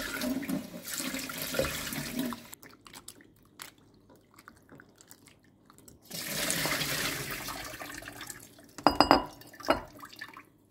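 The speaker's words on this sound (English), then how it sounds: "we have to wash it with cold water twice" Cold running water splashes in bursts with pauses between as mushrooms are rinsed in a sink, then a few sharp knocks and clinks near the end.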